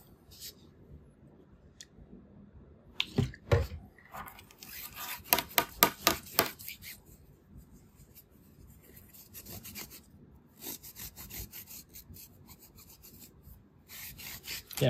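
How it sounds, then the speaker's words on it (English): Alcohol is rubbed onto the contacts of an Arturia KeyStep keyboard with quiet scratchy strokes. A rapid series of louder rubs comes in the middle, with faint speech at times. "let's clean it with some alcohol. So let's rub it"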